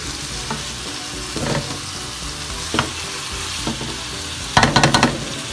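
Vegetables stir-frying for Chinese fried rice in a pan over a full, high flame: a steady loud sizzle with scattered scraping stirs and a burst of quick clattering tosses near the end, no voices.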